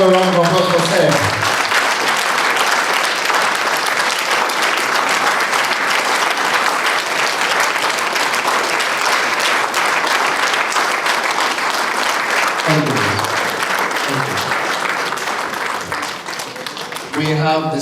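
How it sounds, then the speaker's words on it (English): Sustained, loud applause from the audience at a memorial lecture dinner and dance held at Igbobi College, a dense steady clapping that lasts almost the whole stretch, with brief voices near the start and end. "Let's have a round of applause for Seth."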